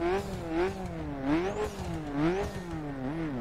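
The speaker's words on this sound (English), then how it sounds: "Of course, the engine sound." Revving rally engine of a Mini Countryman All4 in dirt spec, racing in The Crew, climbs and falls in pitch through repeated gear changes, loud and close, with a steady low drone underneath.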